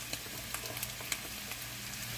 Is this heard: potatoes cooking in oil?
yes